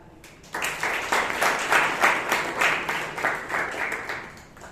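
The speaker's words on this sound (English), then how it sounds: "Let's give a round of applause to our speaker and the evaluator." Toastmasters meeting audience in Bangalore breaking into applause, a sudden dense burst of many hands clapping that stays steady and then gradually thins.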